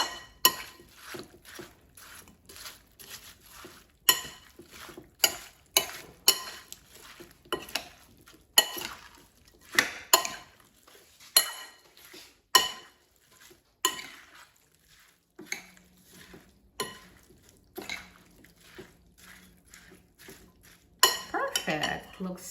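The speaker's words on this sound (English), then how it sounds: "And now I'm going to toss the salad." Watermelon and tomato salad is tossed in a bowl with a utensil, giving a long run of irregular clinks, scrapes and wet knocks against the dish, some sharp and loud, with brief quieter gaps between them.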